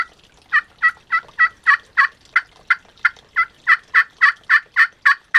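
A raspy glass and slate turkey call played with a striker gives a steady run of about seventeen sharp, evenly spaced yelps. They sound close and loud, rising slightly in volume toward the end.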